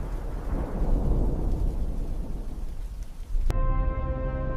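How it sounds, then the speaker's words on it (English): A thunderstorm with steady heavy rain and a deep rolling rumble of thunder, loud and close, ending abruptly as a synthetic tonal drone takes over. "A storm is coming."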